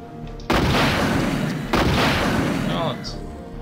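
Two loud, booming gunshot blasts in a row from Resident Evil 2, each with a long rolling tail, with faint background sounds between them.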